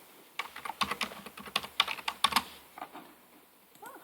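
Rapid, light keystrokes on a computer keyboard tap out a short burst while a password is entered, crisp clicks close by with brief pauses and no talking.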